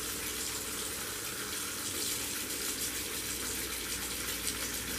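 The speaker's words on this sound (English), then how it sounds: "And run cold water on it." Cold tap water pours steadily over cooked spaghetti in a colander, a continuous close gushing and splashing with no talk.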